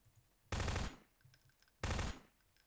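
SMG fire in the video game Garry's Mod: two loud, short bursts of rapid automatic gunfire, each lasting about a third of a second, separated by a quiet pause.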